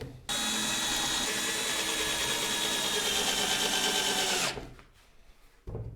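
A power drill whirs steadily at high speed for about four seconds, driving a screw into a wooden birdhouse, loud and close, then stops abruptly; a brief softer mechanical rattle follows.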